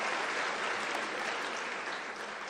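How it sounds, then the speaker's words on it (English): Audience at an academic year closing ceremony giving a round of applause, a steady crowded clatter of clapping that tapers slightly toward the end, no talking. "Can you give the foundation a round of applause?"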